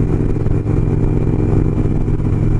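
A motorcycle engine drones steadily and loudly while riding on a road between Lincoln, New Hampshire and St Johnsbury, Vermont, a constant low rumble with no talk.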